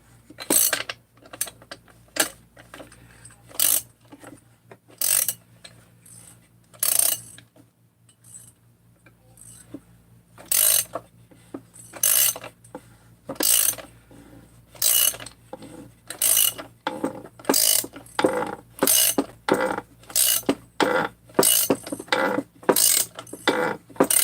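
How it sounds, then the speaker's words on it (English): Metallic ratcheting clicks in irregular bursts from a wrench handle drawing the crankshaft into a Husqvarna 257 chainsaw crankcase at room temperature, close and distinct against a quiet background, with brief pauses between pulls. "So I get a handle, a wrench, just pull the crank in, just like that."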